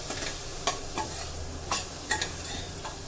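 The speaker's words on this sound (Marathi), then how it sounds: "आणि बटाटा फ्लावर बटाटा घालून घेणार आहे आणि ते व्यवस्थित परतून घेणार आहे" Potato and cauliflower stir-fry in a hot pan under a steady sizzle, with several sharp spatula clinks and scrapes at uneven intervals, close by and with no voices.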